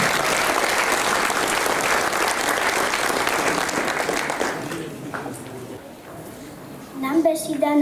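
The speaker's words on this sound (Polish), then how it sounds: "Wielkie brawa dla Łastiwoczka." An audience gives loud, steady applause for a children's Lemko folk song and dance group from Przemków. The clapping fills the first four seconds, then fades as voices and music take over at the end.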